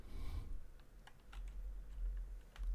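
Faint computer keyboard typing while playing a gold mining simulator game, a few sparse clicks and taps over a low background hum.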